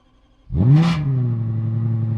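A Lexus LFA V10 revs sharply from idle toward its 9000 rpm redline in a fraction of a second, a loud rising snarl that peaks and then settles into a sustained high-pitched drone.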